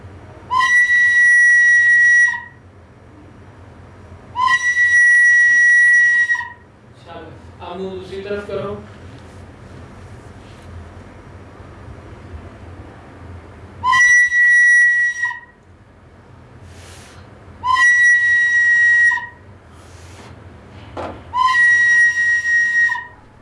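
A flute plays five sustained bright notes in separate bursts of one to two seconds, with pauses between them and a short low burble in the middle; the tones sound clear and close against faint background hum.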